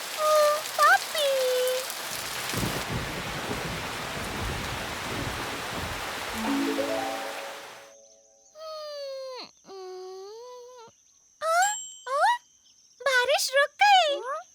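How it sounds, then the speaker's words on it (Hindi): Cartoon rain starts falling outdoors in a dense, hissing wash for several seconds, then stops, followed by chirpy animated voices and tonal sound effects. "बारिश होने लगी।"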